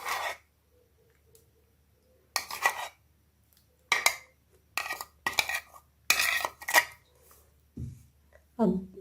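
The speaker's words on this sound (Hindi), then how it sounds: "अब इन सब को अच्छे तरीके से मिक्स करना है" Boiled macaroni is mixed with tamarind sauce in a bowl for chaat. Separate bursts of spoon scraping and clinking against the dish come with short quiet pauses between them.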